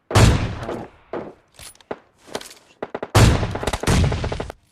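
Kar98 bolt-action rifle gunfire in PUBG Mobile Lite: loud, sharp shot reports in two clusters, each a heavy blast followed by scattered quieter shots and echoing cracks, with no talking.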